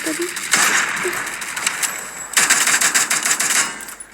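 Automatic gunfire in the Free Fire video game comes in two rapid, rattling bursts of close, loud shots separated by a short pause.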